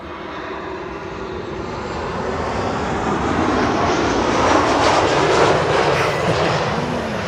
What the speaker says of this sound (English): The airplane preceding this 747 is a 737 from KLM